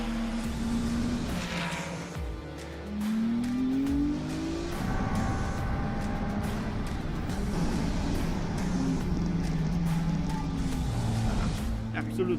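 Ferrari Challenge race car engine at Le Castellet circuit, loud continuous roar with rising and falling revs and gear shifts throughout, close and dominant, with another car's engine note mixed in.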